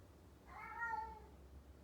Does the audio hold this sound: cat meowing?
yes